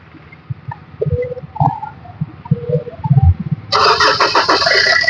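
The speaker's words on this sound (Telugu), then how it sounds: "బండి అయితే సింగిల్ సెల్ఫ్ లో స్టార్ట్ అయిందండి." A 2017 Maruti Brezza VDI diesel with 77,000 km cranks and fires on the first try after a few quiet clicks, then settles into a loud, steady diesel idle.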